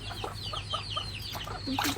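Chickens cluck in a series of short, bright calls, close and fairly clear, over a low steady hum.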